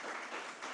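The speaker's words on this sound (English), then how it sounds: "A big clap." Audience applause at the close of a scholarly conference talk, steady broadband clapping from a crowd sustained through the short moment with no talk over it.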